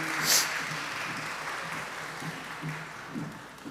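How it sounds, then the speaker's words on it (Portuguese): An audience in an auditorium at a public session marking World Autism Awareness Day claps in soft, steady applause, heard from a distance with a faint voice over it. "Palmas, por gentileza, para a Lilian."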